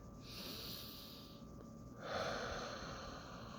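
Slow, quiet breathing: a long soft breath followed by a pause, then another drawn-out airy breath, close and gentle with no talking.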